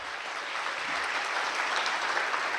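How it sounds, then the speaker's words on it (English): Banquet audience applauding steadily at a sports hall of fame dinner, a dense, even wash of clapping hands filling the room from start to finish with no voices standing out. "Let's give Dave a round of applause."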